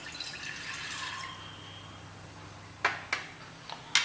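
A glass of water goes into a cooking pot to boil fenugreek seeds, starting as a soft pouring wash and ending in a few sharp, close drips and splashes.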